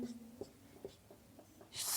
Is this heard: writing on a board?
yes